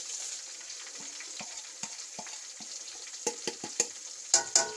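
Cinnamon pieces, ground spices and crushed red chili fry in hot oil with a soft, steady sizzle, punctuated by a series of sharp stirring clicks against the pan that grow louder toward the end, with no talk.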